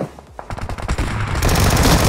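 Gunfire in BGMI, a quick run of loud close shots building into a dense continuous burst.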